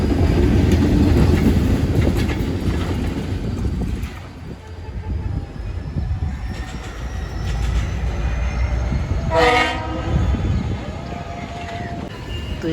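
Locomotive NLC GMU 30 7225 rumbles past the railway crossing at Malir Halt in Karachi with loud, steady rolling and clattering wheels, and a short horn blast sounds partway through.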